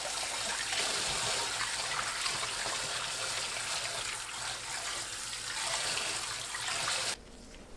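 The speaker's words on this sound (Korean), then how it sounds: "흐르는 물로 씻어냅니다." Running tap water pours steadily over sand lance fish being rinsed, a continuous close splashing hiss that stops abruptly at the end.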